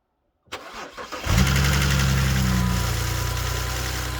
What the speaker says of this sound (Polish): Odpalamy auto.